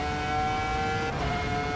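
Ferrari F2004 Formula One car driven in a racing simulator game, its engine a loud, steady high-pitched whine at sustained revs, holding nearly constant pitch with a slight shift midway.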